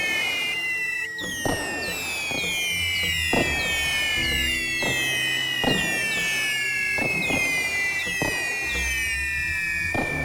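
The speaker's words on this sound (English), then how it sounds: "I really like this fireworks mode." Fireworks mode in the VR game cyubeVR: a rapid series of whistling rockets rises in pitch, each followed by a sharp burst. The bangs repeat steadily and loudly over ten seconds.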